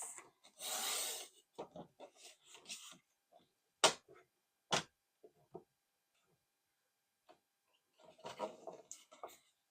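Scissors cut paper for a handmade mini album with pockets, giving short dry rasping snips and rustles close by, separated by quiet pauses.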